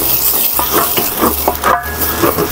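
Garlic sizzles in a hot frying pan with a steady crackle, broken by a few stirring scrapes and utensil clinks close by.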